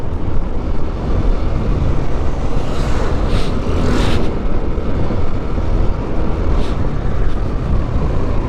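A loud truck roars past close by on a road, a broad, heavy rumble that stays strong for the whole stretch, with no talking.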